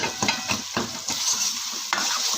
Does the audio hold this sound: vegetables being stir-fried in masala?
yes